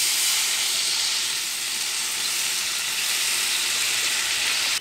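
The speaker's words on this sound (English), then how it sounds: "Once you finish sauteing that, you want to add in your lemon juice." Lemon juice hits sautéed shallots in a hot pan for salmon, giving a loud, steady, close hiss of steam and sizzle that holds evenly throughout, without talk.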